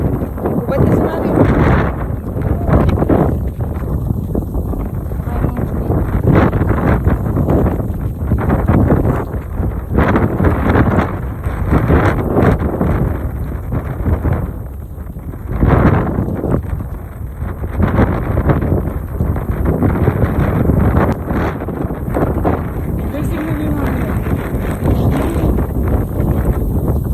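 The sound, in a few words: strong wind blowing by a river during a storm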